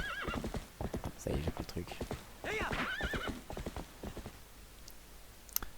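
Epona the horse in the Zelda Twilight Princess HD video game neighs and whinnies with clip-clop hoofbeats, played at moderate volume while someone talks over it in French.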